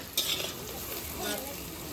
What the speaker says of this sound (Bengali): পেঁয়াজটা ভাজা হয়ে গেছে পেঁয়াজটা লাল হয়ে গেছে